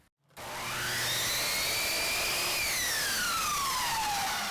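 A miter saw set to a 22.5 degree miter angle cutting polyurethane crown molding: the motor spins up abruptly to a loud whine that holds steady, then the pitch sinks as the blade bites through, with no talk.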